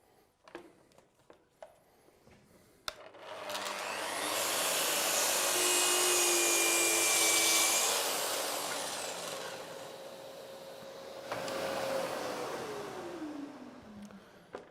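Festool HK 85 circular saw cutting timber at a 38-degree bevel along a guide rail: a few light knocks, then the motor whines up and rips through steadily before spinning down.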